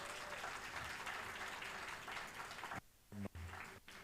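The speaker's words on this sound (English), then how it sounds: "So another round of applause for Jeffrey." An audience at a talk on future jobs in Jamaica gives a speaker a round of applause, a fairly quiet, dense clatter of clapping that breaks off abruptly near the end, leaving brief sounds and gaps.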